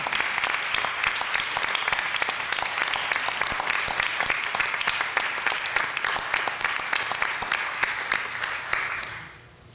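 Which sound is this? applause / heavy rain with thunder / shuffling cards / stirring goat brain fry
applause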